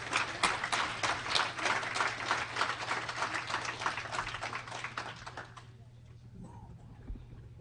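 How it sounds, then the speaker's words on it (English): Applause for award winners at a Limousin cattle genetics event, a dense, crisp round of many hands clapping that fades out midway and leaves a quieter room with a low hum. "If you would give those 3 individuals a round of applause."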